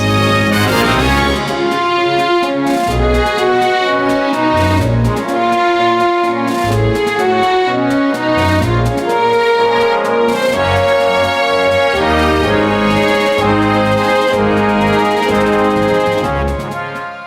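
A full, loud orchestral passage with brassy sustained trombone chords and a steady marching snare drum rhythm underneath, playing continuously without voices.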